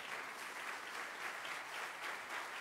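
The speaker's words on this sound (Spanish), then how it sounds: "Un aplauso." Applause from the audience at a university president's investiture ceremony, a soft, even patter of many hands held steady and somewhat distant, with no voices over it.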